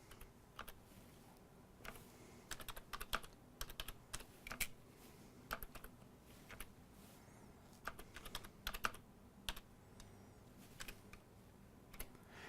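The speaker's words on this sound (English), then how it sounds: "So to do that, I'm going to type this command." Keys clatter on a computer keyboard as a Linux dd command is typed, close and moderately quiet, in irregular bursts of quick clicks with brief pauses between words.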